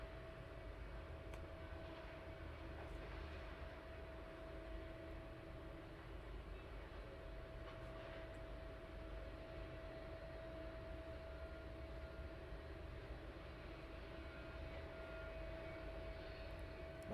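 An airliner taxis at East Midlands Airport at night, a faint, distant, steady engine drone with a constant tonal whine that holds unchanged throughout, with no voices.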